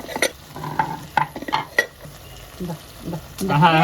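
Onions, tomato, salt and turmeric sauté in a pan over a wood-fired stove, with repeated sharp scraping stirs over a steady sizzle, close and fairly loud, and a brief murmur of voices near the end.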